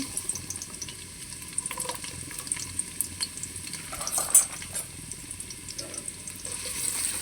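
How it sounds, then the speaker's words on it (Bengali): Chopped onion frying in a pot with cinnamon, cardamom and cloves, a moderate watery sizzle broken by scattered light clicks and stirring scrapes, close and fairly quiet, with no speech. "পেঁয়াজটাকে একটু ভালো করে ভেজে নেব"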